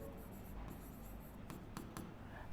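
Pen scratching across paper while solving a maths problem: close, soft, continuous scraping broken by a few quick, sharper strokes near the end.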